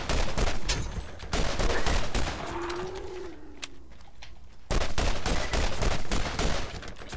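Rapid bursts of pistol gunfire from the Borderlands video game come in repeated clusters, loud and close, with a quieter stretch in the middle carrying a short warbling tone before the shots resume.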